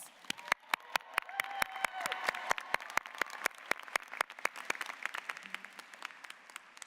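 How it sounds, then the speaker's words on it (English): Applause from an audience of nursing graduates and guests at a university convocation ceremony: sparse, distinct claps that thicken into a moderate, steady ovation, then thin out toward the end, with no talk. "Give yourselves a round of applause"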